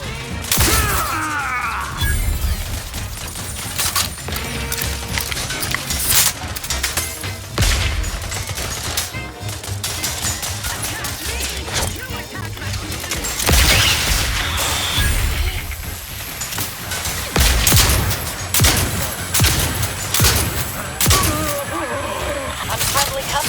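Rift weapon fire in The Outer Worlds 2 comes as rapid, loud bursts of gunfire, crashes and shattering impacts, packed densely throughout amid chaotic game combat.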